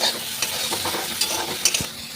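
Vegetables frying in oil with a pinch of salt and turmeric, a close, continuous sizzle broken by repeated spatula stirring clacks and scrapes.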